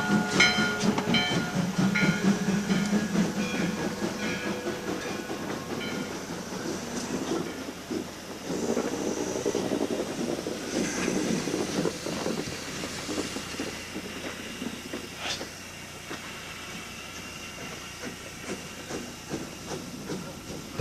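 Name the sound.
steam locomotive train running and hissing steam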